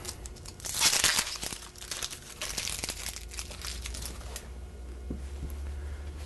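Onion skins being peeled by hand make dry crinkling and tearing rustles, busiest early on and then thinning into scattered soft crackles, close and fairly quiet.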